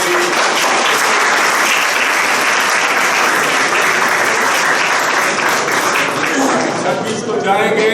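Children clap together in a loud, dense and steady burst of applause that carries on for several seconds and begins to thin slightly near the end.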